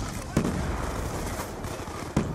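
Gunfire in Black Ops 2 comes as two distinct sharp shots, one early and one near the end, heard over dense, noisy game ambience with a continuous rumbling background.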